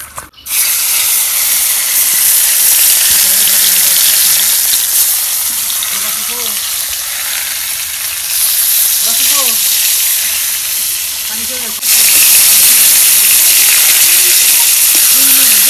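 Fish sizzles in a pan on a stove, a loud, steady frying hiss that runs throughout and briefly swells partway through, while someone talks over it.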